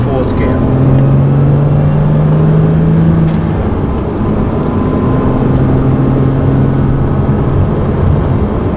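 Formula Renault race car engine powering out of a corner on the Thruxton circuit, a steady loud onboard drone with harmonic tones rising and shifting throughout, continuous with no pauses.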